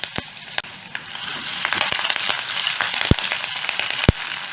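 Cumin, sesame seeds, green chili pieces and curry leaves crackle in hot oil, with sharp scattered pops and spits over a steady sizzle, close up and with no talking.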